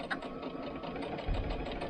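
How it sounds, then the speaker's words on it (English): A sewing machine chain-sews the lining of a fitted mask, a rapid continuous mechanical whir close up with rhythmic pulsing and no talk. "And I just chain sew"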